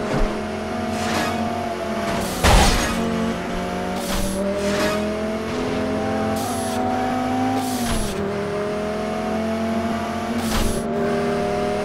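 A custom LS V8 engine in a modded video game muscle car revs repeatedly, its pitch sweeping up and down between gear changes, loud and continuous from close by, with no talking.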